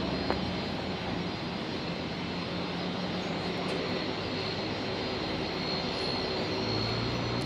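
A Qantas jet aircraft at Brisbane International Airport, a continuous broad engine roar with a steady hum, fairly distant and unchanging, no voices.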